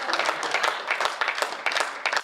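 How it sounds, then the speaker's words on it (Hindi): Clapping from the audience at a Hindi comedy poetry gathering, a kavi sammelan, with uneven, scattered claps rising and falling in loose bursts rather than one continuous roar. "एक बार हाथ उठाकर सभी लोग तालियां बजाएं"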